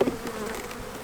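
Honey bees buzz during a winter hive inspection, a dense close droning hum that lasts through the whole short moment.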